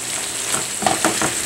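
Fried cauliflower being stirred in a hot frying pan for gobi manchurian, with a steady sizzle and a few soft scraping and clinking touches of the spoon close by.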